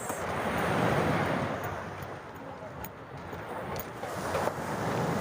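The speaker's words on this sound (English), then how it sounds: "So welcome to Mistral Beach in Marbella" Ocean surf at Mistral Beach in Marbella rolls in as a continuous wash of breaking waves mixed with wind buffeting the microphone, loud and steady, with no talking.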